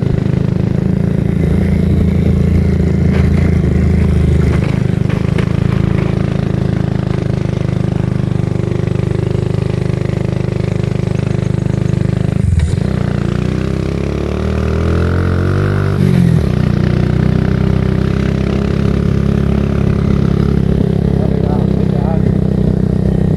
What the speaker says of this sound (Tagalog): Dito magandang gamitin yung motor ko eh.